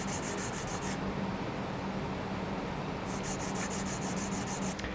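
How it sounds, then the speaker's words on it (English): Steady gritty rubbing of sanding on a small guitar nut blank, continuous scraping strokes with a brief pause before resuming. "as I'm sanding"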